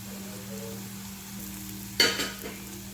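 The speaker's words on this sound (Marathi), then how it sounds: "आता त्यामध्ये मी लसूण घालणार आहे हे लसूण आणि खोबरं आहे" Onion, garlic and coconut frying in a pan, a steady low sizzle that breaks into a brief louder burst of crackle as the garlic and coconut drop in, then settles back to a soft hiss.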